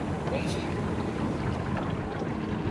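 A motorboat crosses a hot springs lake at La Unión, El Salvador, its engine a steady rumble under heavy wind noise, with voices talking over it.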